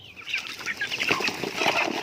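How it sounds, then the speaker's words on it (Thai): Chickens feeding close up, with busy pecking, scratching and rustling mixed with soft clucks and occasional wing flutters, moderately loud and irregular. "นี่ฮะไก่ก็ยังกินดีอยู่เหมือนเดิมนะครับ"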